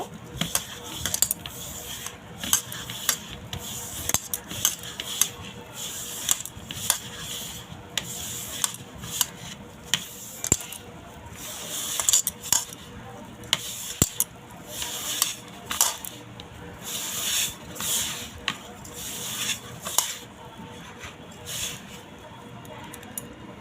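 Palm fruit pulp being kneaded into a batter by hand for taler patisapta, a long run of wet squishing, rubbing and occasional bowl clinks, close and irregular.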